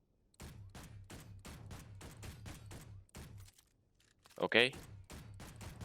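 A golden Elite pistol in Space Engineers fires at a training dummy in rapid, evenly spaced shots. A brief pause follows while a voice says a word, then the shooting resumes.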